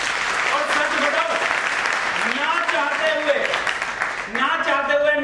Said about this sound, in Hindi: एक बार जोरदार जबरदस्त तालियां मेरी बड़ी बहन मंजू दीदी के लिए सर